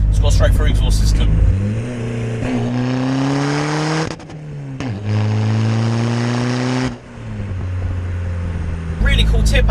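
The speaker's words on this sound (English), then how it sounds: "as you'll hear, it's got a straight through exhaust system" A Skoda Fabia VRS hybrid turbo diesel with a straight-through exhaust revs loudly up close in several rising and falling pulls, its note climbing then dropping between blips, with brief talk at the start and end.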